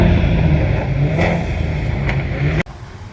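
A tuned Fiat car engine idles with a steady, close, loud burble, broken by a few sharp pops and crackles, before cutting off abruptly near the end.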